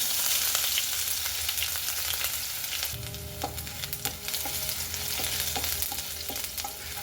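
Chopped ginger and mustard seeds sizzle in hot oil in a pan while being stirred, a continuous close frying hiss with scattered pops and crackles and scraping stir strokes.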